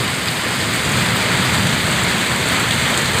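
Heavy rain pours down in a continuous, loud, even hiss with no voices over it.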